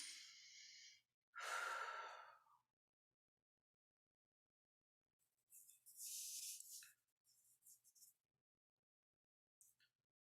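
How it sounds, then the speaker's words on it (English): People taking medium breaths, a couple of clear inhales and exhales up close, followed after a pause by softer, more broken breathing sounds and a short final puff, with silence between. "So you might want to add a few deep breaths here."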